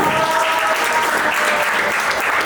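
Dense, steady clapping from a café audience at a stand-up comedy open mic, loud and continuous throughout with no voice on top.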